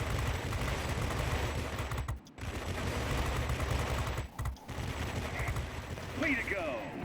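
Rapid machine-gun fire from a Tier X XF-90 heavy fighter's gas-operated guns in World of Warplanes: a dense, continuous rattle of shots that breaks off briefly twice before resuming, loud and close throughout.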